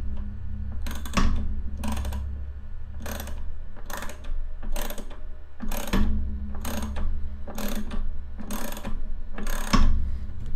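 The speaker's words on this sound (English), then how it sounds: "You never expected to see a ratchet of this size on a build, did you?" A ratchet clicks in repeated short bursts, about nine loud, evenly paced runs of close metallic pawl ticks, while the build of a Geeetech A-10 3D printer goes on at a desk over a steady low hum.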